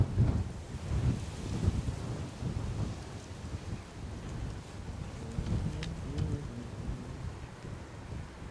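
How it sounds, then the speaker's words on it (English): Strong gusting wind of over 40 mph at Edinburgh Airport, a continuous low rumbling buffet on the microphone with a faint distant tonal whine partway through. "There's the wind."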